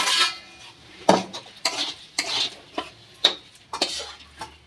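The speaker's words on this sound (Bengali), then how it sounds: "একটা থালার মধ্যে আমি ঢেলে নেব।" A spoon scrapes cooked spiced potato filling for aloo paratha out of a metal pan onto a plate, a series of sharp, close clinks and scraping strokes at an uneven rhythm, with no talk.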